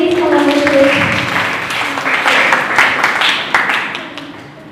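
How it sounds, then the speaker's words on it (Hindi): Applause from a gathered audience at a college seminar, clapping rising and fading over a few seconds with some voices mixed in. "आप सबकी जोरदार तालियों में बुलाना चाहूँगी सर मैजियम को."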